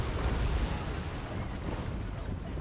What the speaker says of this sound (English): Cannon rounds are coming in, but they're targeting the infantry.